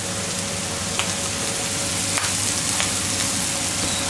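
Bacon lardons sizzling with peas in a pan, a steady, even hiss with occasional small pops, close and fairly loud, with no talking.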